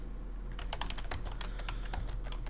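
Fast, close typing on a computer keyboard while writing in Celtx screenplay software, with a brisk run of clicky keystrokes over a steady low hum.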